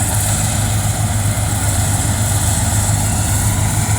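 A combine harvester engine drones steadily and loudly throughout, with a deep low rumble and constant mechanical whine, no voices.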